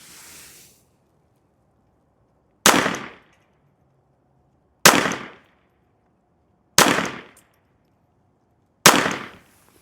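Four sharp, loud gunshots from a Taurus TX22 Gen 2 pistol firing Thunderbolt .22 ammunition ring out about two seconds apart at close range, each with a brief decaying tail and quiet in between.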